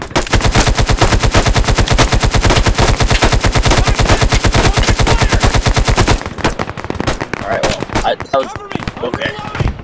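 Rapid automatic gunfire in the video game Ravenfield, a loud sustained burst of tightly spaced shots for about six seconds, then scattered single shots and explosive bangs.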